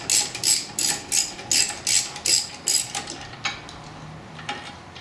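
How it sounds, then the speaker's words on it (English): A hand ratchet works a brake caliper bolt on a 2011 Cadillac SRX, giving about ten sharp, evenly spaced clicking strokes close by before the clicks fade into quieter, scattered ticks. "I'm not hitting the head of the ratchet"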